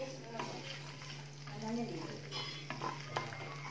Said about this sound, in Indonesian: kita tumis dulu sampai wangi